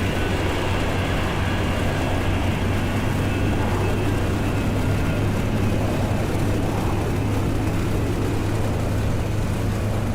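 A steady, broad roar of a passing Alaska Air Boeing 737 jet in a flight simulator set in Alaska, loud and constant over a low engine drone for the whole ten seconds, without speech.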